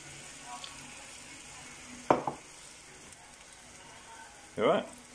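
Veggie stock poured into a hot pan of browning bacon mix, giving two brief loud sizzling bursts over a low background hiss.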